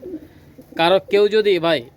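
Pakistani pigeons in a loft give a few close, throaty coos in short bursts, with a softer murmur before them.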